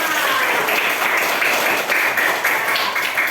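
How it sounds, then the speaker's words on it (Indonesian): A third-grade primary school class claps together in a fast, dense burst, the children's applause steady and fairly loud throughout. "Tepuk tangan untuk kita semua."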